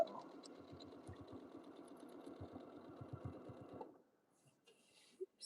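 A sewing machine stitches a quilt with a steady rapid mechanical chatter for about four seconds, then stops abruptly, leaving near silence with a faint knock at the end.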